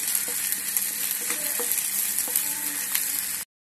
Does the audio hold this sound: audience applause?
no